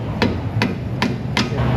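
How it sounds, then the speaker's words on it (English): A hammer drives a punch or screwdriver during axle work on a 2001 Isuzu Trooper in an auto shop, giving four sharp, evenly spaced metallic blows close to the microphone. "you can use a punch or screwdriver and a hammer."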